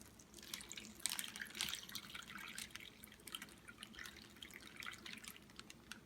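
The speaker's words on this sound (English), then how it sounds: "There's our 6 ounces of water." Water pours into an MRE hot beverage bag, a close, faint trickle with splashing drips that continues steadily, with no talk.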